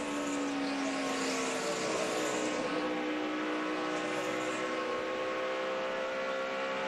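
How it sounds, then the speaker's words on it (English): A NASCAR stock car, the 18 car, drones past with a steady high engine note at an All-Star race, rising and falling gently as it runs, moderately distant with no talk. "I think that's the engine we're listening to"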